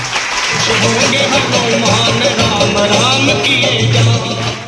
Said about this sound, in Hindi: एक बार जोरदार ताली मेरी बहन के लिए, जबरदस्त ताली।